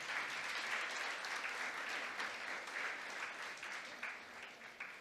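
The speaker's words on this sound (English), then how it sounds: "I want all of you to give a big round of applause to Teacher Doherty" An audience at a Founders Day celebration gives a sustained round of applause for Teacher Doherty, dense hand-clapping that holds steady and thins slightly toward the end.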